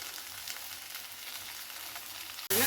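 Tomatoes sauté in a pan for a mint tomato chutney, giving a steady, close sizzle and crackle of frying. A sudden louder burst comes at the very end.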